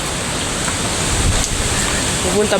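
Strong wind roars steadily and close, a dense broadband rush with gusting swells that sounds almost like surf, continuing throughout with no pause.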